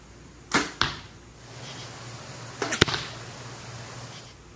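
Arrows loosed from a Mathews compound bow strike a target at close range: two sharp snaps in quick succession, then a pause and another cluster of cracks, over quiet outdoor ambience.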